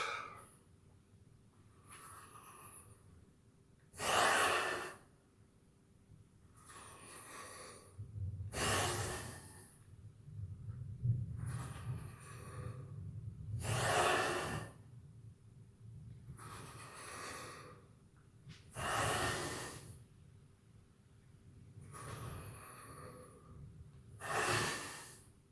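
Heavy exercise breaths during a posture workout, deep inhales and forceful exhales repeating roughly every five seconds, close and distinct, with faint background between breaths.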